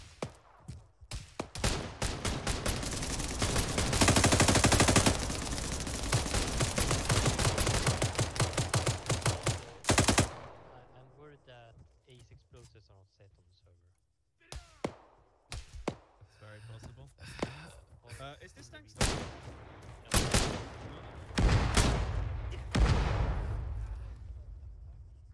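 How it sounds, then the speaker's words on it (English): Bursts of automatic gunfire and scattered single shots in the video game ArmA 3, a long loud sustained volley followed by a quieter gap, then sharp separate shots and short bursts, with occasional voices. "Who the fuck is shooting me now?"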